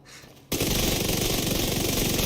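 A submachine gun in The Division 2 opens up after a brief quiet moment and fires in one loud, unbroken rapid burst of shots that runs to the end.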